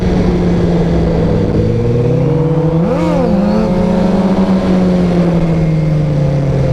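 A steady, loud car engine idles, then climbs in pitch as more throttle is applied in one brief rev and settles back to a steady drone.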